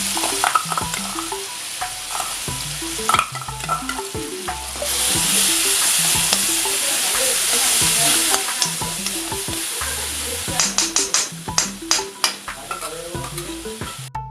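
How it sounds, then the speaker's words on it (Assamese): Ginger-garlic paste fries with cumin seeds in a little oil for a paneer and brain curry, with a steady sizzle broken by repeated scraping stirs and clinks of a spoon against the pan, growing busier and more clattering toward the end. "তো এতিয়া মই আদা নহৰু পেষ্টখিনি ভাজি লওঁ"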